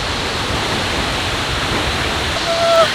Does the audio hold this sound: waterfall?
yes